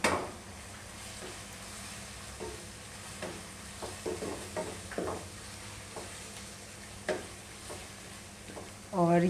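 Ridge gourd with finely chopped green coriander frying in a pan with eggs, giving a soft, steady sizzle broken by quiet scraping stirs of a spoon against the pan and a louder clatter at the end.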